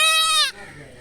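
A piebald-patterned nanny goat with two kids gives one loud, close, wavering bleat that cuts off abruptly, leaving a quieter, muffled tail.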